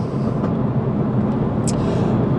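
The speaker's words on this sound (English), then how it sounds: "Very, very impressive car. And that noise." Loud, steady engine roar of a 2017 Ford Focus RS hot hatch at close range, a constant deep drone throughout with no talking.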